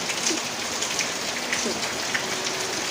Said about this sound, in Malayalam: ആകെ മഴയുടെ ശബ്ദം